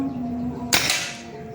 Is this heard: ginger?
no